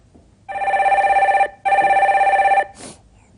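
A telephone rings on a live call-in broadcast as the next caller is connected, giving two long, loud, steady electronic ring bursts separated by a short gap, followed by a brief click.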